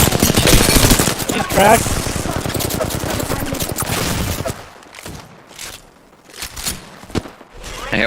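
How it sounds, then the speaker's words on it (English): Video game gunfire, rapid automatic bursts rattling loudly for several seconds, then thinning to scattered single shots, with players talking over it. "Being shot at."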